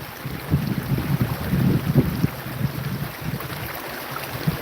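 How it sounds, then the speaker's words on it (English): Wind gusts outdoors during gold panning, rumbling and buffeting the microphone in low irregular bursts that rise and ease over a few seconds, with no talk. "The wind's really picking up."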